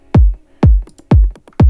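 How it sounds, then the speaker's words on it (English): Massive chunky kick drum for a sad pop house track, four loud punchy booming hits in steady succession with short decaying tails and faint ghost hits between them. "So you like a massive chunk kick"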